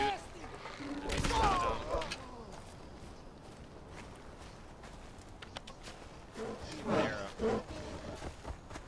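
A bear in the Far Cry video game growls and roars in two loud bursts, one early and one near the end, with quieter game ambience in between.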